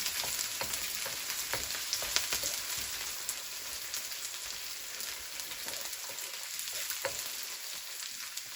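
Onion fries in a hot pan on a stovetop, giving a steady, dense sizzle with scattered crackles and pops, heard close and continuous with no talking.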